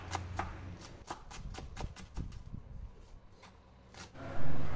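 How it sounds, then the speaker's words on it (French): A courgette is rubbed against a kitchen grater in a string of short, rasping strokes at an uneven pace, close by, ending on a louder burst of noise. "Je râpe la courgette."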